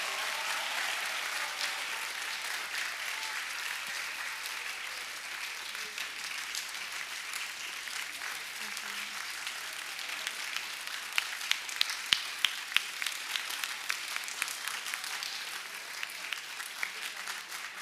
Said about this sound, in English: Final round of applause for our alum, Rosie